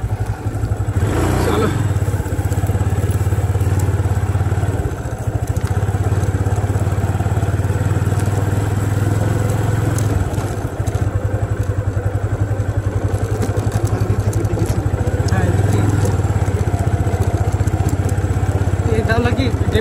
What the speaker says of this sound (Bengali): ক্ষেতের মধ্যে ঢুকিয়ে দিয়েছে বাইক